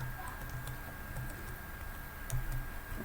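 Rapid, irregular key clicks from typing on a computer keyboard while laying out a flyer in Photoshop, fairly quiet over a steady room hum.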